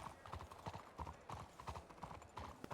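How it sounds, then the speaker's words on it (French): Horse hooves clip-clop steadily at a walk in a Western video game, a regular near rhythm with a faint voice underneath. "T'as un petit cheval."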